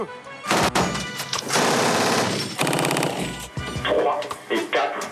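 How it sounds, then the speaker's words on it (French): Bursts of military machine-gun fire crack out loud and close, overlapping shots on an outdoor firing range, with shouted commands mixed in. "les militaires vont détruire l'ennemi à l'aide d'une mitrailleuse capable d'atteindre une cible à plus de 600 mètres"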